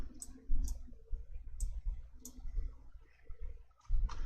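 A computer mouse clicks sharply several times at irregular intervals, close and distinct against near silence during spreadsheet work.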